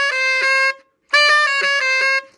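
Two short phrases of rich, reedy saxophone tones with buzzy overtones from false fingerings, the notes tongued in quick repeated pulses, separated by a brief silence.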